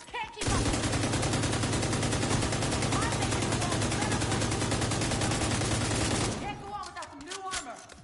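Sustained automatic gunfire in The Division 2, a loud continuous burst lasting several seconds, cutting off abruptly before talking resumes.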